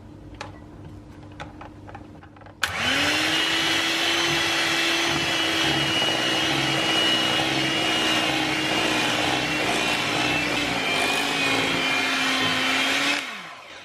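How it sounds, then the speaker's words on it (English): An electric hand mixer whirs steadily for about eleven seconds, switching on with a jolt and winding down at the end, whisking orange loaf cake batter after flour has been added; a few light clicks come before it starts. "give the mixture a final whisk until you have a beautiful cake batter"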